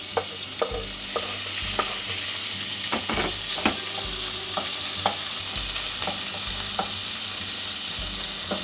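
Meat sizzles steadily in a well-heated, oiled pan, with a continuous fry hiss broken by repeated clinks and scrapes of stirring, close up and with no talk.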